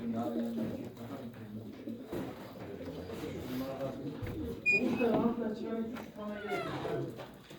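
A flock of seventy to eighty pigeons coo softly in low, rolling calls, several birds overlapping, with people talking nearby over the cooing.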